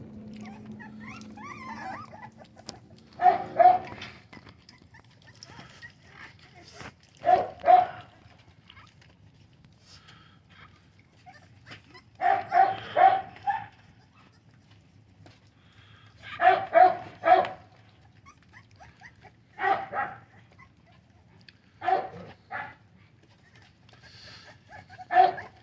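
Four-week-old American bully puppies give short bursts of yips, barks and whimpers, repeating every few seconds against a quiet background, with faint talk early on.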